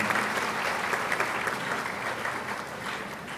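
A large audience at a university congregation ceremony for KNUST applauds steadily, a dense, even burst of clapping that fills the space without any speech over it.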